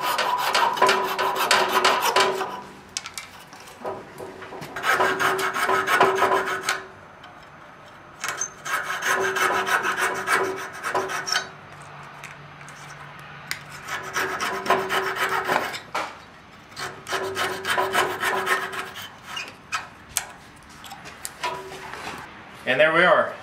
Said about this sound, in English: I'm just gonna take a coping saw and cut down the scribe marks that I made.